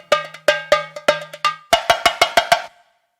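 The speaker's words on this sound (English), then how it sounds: "Then I have the cowbell, which is inside the yellow pedal here" A sampled cowbell triggered from a yellow loop station pedal strikes about a dozen sharp, bright metallic hits, first at an even pace and then in a quicker run, loud and close with nothing else playing.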